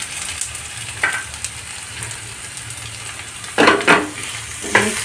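Ginger garlic paste and soybeans sizzle steadily in a pan for soya bean rice, with louder scraping bursts of stirring near the start and toward the end.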